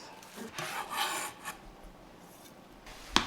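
Dried chilies are chopped on a board with a few uneven scraping, rasping strokes, close and fairly quiet, ending in one sharp knock.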